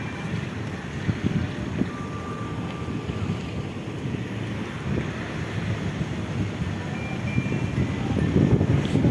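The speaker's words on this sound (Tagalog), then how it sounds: "Mahangin." Wind rushes past outdoors at a lifestyle center, a steady, moderately loud broadband whoosh that swells toward the end, with faint background tones and no clear voices.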